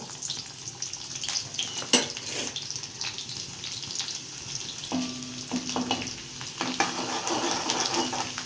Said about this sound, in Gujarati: હવે આમાં હું લસણ નાખું છું. તેલ આવી ગયું છે.